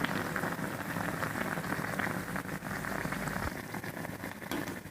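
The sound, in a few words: puris frying in hot oil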